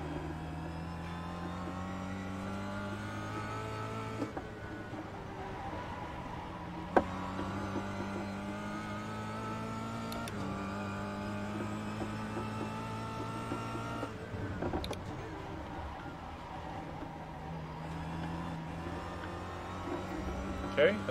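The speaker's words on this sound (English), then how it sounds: "Cadillacs are coming up behind us." Several Cadillac cars approach from behind on the road, their engines humming steadily with rising and falling tones and occasional revs, while people talk over the engine noise.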